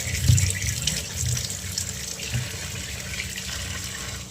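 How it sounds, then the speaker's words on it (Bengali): Chopped cauliflower rinsed under a running kitchen tap, a steady close hiss of flowing water splashing into a sink, with a few louder gushes near the start and no talking. "এখন আমি ফুলকপিটা ধুয়ে নেব"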